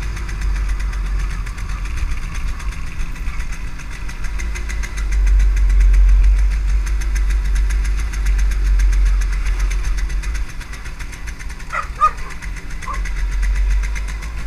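An MZ 250 motorcycle engine runs steadily at a low, constant rumble that fills the whole stretch, with a few faint higher clinks near the end.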